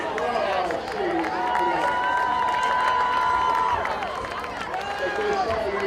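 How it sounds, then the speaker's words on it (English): Bleacher crowd at a high school varsity football game cheering and clapping for students, with whoops and shouts layered over continuous chatter at moderate distance. "Big round of applause, please, for our students."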